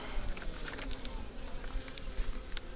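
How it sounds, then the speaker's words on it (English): A swarm of honey bees buzzes continuously in grass, a soft, steady droning hum with a few individual bees passing closer; no voices are heard. "I see some of these bees here, they traveled just like that in the truck all this way with us."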